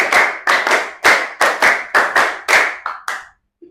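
Loud hand clapping in a classroom clapping game led by a teacher: about nine sharp, evenly spaced claps building a steady rhythm, alone with no talking, ending in a brief quiet pause.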